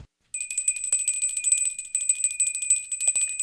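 A small hand bell rings steadily on a South Florida morning talk show, bright sustained metallic tones with repeated shakes after a brief silent start, loud and alone.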